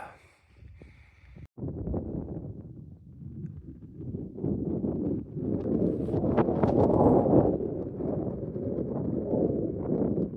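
Steady mountain wind in Zermatt, Switzerland roars and buffets the microphone, rising and falling in gusts over a rumbling background, loud and close throughout.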